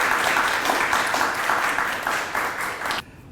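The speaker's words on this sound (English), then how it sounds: "A big round of applause, please." An audience applauds steadily for about three seconds, a dense wash of clapping that cuts off abruptly.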